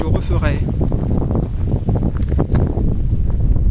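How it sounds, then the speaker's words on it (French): Strong outdoor wind buffets the microphone in a steady low roar, loud and continuous, with a speaking voice running underneath. "il y a pas mal de vent"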